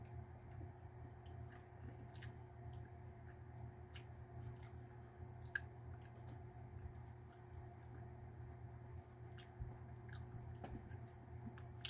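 Quiet chewing of a mouthful of Aldi Cheese Club boxed macaroni and cheese, with soft wet bites and small ticks close to the mic over a steady low hum.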